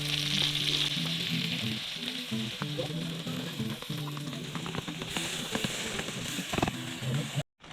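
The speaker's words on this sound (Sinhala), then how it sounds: "ලීස් සහ කැරට් ටික සෙම්පරාදු කරනවා." Leeks and carrots sizzling as they are sautéed in a pan at a Wangedigala campsite while making kottu, a loud continuous fry with stirring scrapes and faint voices in the background.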